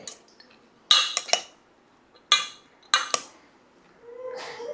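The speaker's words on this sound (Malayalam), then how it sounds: "നമുക്ക് ഈ സ്പൂണിട്ട് ഇളക്കി കൊടുക്കാം" A metal spoon stirs and scrapes in a cooking pan with onions, giving four close, sharp clinking bursts spaced apart, with a softer rustle at the end.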